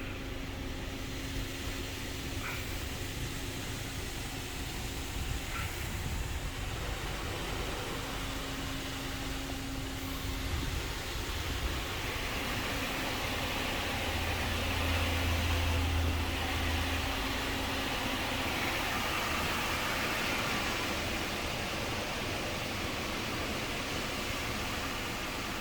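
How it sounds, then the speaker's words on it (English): Vintage Autec soft-touch car wash with rare turbine dryers running, a loud continuous blowing roar with steady broadband hiss and a faint low hum throughout. "I love that turbine dryer."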